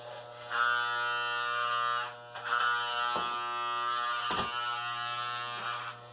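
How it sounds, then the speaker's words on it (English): Electric hair clippers buzz steadily up close with a high, even hum, briefly dipping as they move against hair. "I'm really sorry, the clippers are so loud."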